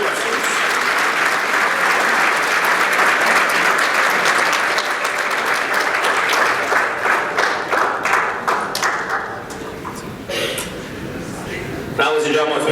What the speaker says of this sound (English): Please join me in a round of applause for our senior wrestlers.